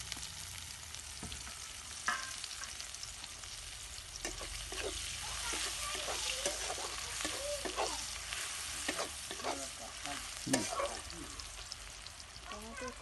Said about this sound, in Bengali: এবার পেঁয়াজগুলোকে দিয়ে দেবো।